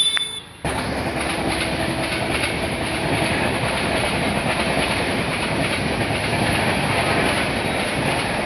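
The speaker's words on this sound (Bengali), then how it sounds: "ট্রেন যাচ্ছিল সেটা ভিডিও করলাম" A train rolls past on railway tracks, loud and close, with steady clickety-clack and squealing wheels that continue without a break after a brief quieter moment at the start.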